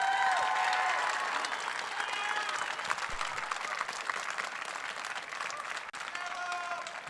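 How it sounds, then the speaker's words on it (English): Crowd at the opening ceremony of an esports state tournament in Grand Forks, North Dakota, applauding with a dense, sustained clatter and faint cheers, loud at first and tapering slightly. "Let's have a big round of applause"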